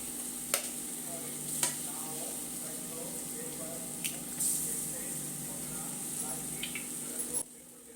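Eggs go into tomatoes frying in a pan for a Maggi noodle dish, producing a steady close sizzle with occasional stirring scrapes that stops abruptly near the end.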